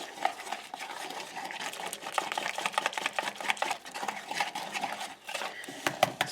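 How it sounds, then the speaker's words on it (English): Yeast, sugar, warm water and flour whisked together in a bowl at a fireside camp, a quick steady run of light clicking strokes close by, with no talking. "Give it a whisk."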